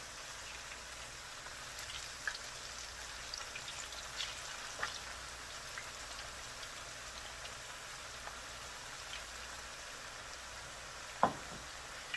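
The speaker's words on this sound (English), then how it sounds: "as soon as they drop in there, you start to hear that sizzle and crackle" Soft, steady sizzling of french fries frying in hot oil, with scattered faint crackles and pops, quiet and close.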